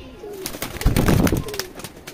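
Teddy pigeons, a kalsira male and a spiked-crest female, give a low throaty coo at close range, a short rolling burst that swells and fades over a second amid light background rustle.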